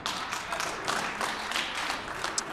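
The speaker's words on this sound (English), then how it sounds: "Merely a clap." Brief clapping in the Manitoba legislative chamber, a scattered patter of hands from members, fairly faint and uneven, rising and falling over a couple of seconds.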